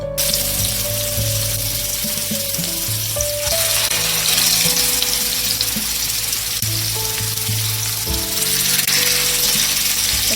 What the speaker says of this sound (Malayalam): ഇനി ആ എണ്ണയിലേക്ക് നമുക്ക് എടുത്തു വെച്ചിരിക്കുന്ന മീൻ ഇട്ട് കൊടുക്കാം.